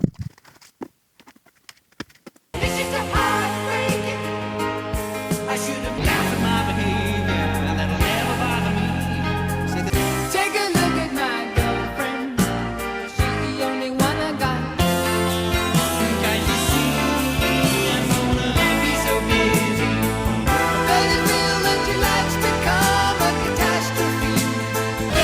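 A Supertramp song from the album Breakfast in America plays loud and full after a brief near-silent start, with steady band instrumentation and layered melodic parts running continuously.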